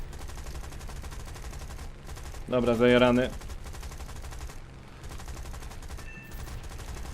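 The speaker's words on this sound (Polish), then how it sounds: "Air Cobra do mnie chyba pruje, bo słyszę armatę." Rapid cannon and machine-gun fire from an attacking Bell P-39 Airacobra fighter in the War Thunder combat flight game bursts out loud for about a second over steady engine drone, with a short spoken line in the clip.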